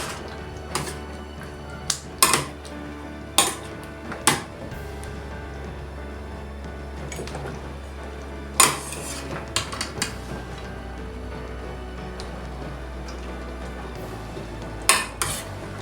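Cooked Jamaican oxtail is plated up with scattered clinks and clatters of dishes and cutlery, sharp close knocks at irregular intervals over a low steady kitchen hum.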